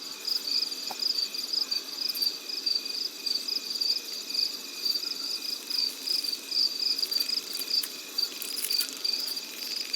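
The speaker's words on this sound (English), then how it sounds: "Can you hear those crickets? You should be able to hear the crickets." Crickets chirp in the night ambience of the video game Life is Strange Remastered, a steady, pulsing chorus of high trills that carries on evenly for ten seconds with no talk.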